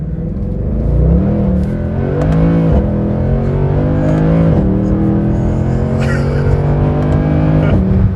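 A Mercedes C63 AMG Black Series engine roars loudly and close, surging through revs with abrupt dips and blips as it downshifts, the howl sustained throughout.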